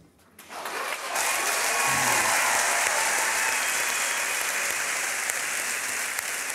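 An audience bursts into loud, sustained applause after a poetry performance, rising quickly from near silence into a steady roar of clapping.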